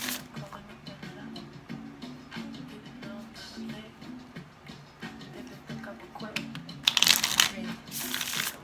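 Tarot cards are shuffled in steady soft riffling bursts, with a louder crisp flurry of cards near the end and no talk.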